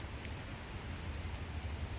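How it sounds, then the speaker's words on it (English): Rain falling, a faint steady hiss of drops with soft scattered patter, constant throughout. "And it's raining right now, and I'm so grateful for it."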